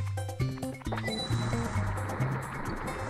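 Mario plunges into water in Super Mario 64, a gurgling, bubbly splash that swells and lingers under steady, upbeat game music with bouncing synth notes.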